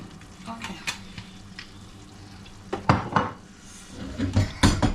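Mixed green vegetables stir-fried in a pan for a family dinner, with sizzling, a utensil scraping and clanking against the metal in bursts, close up and busiest toward the end.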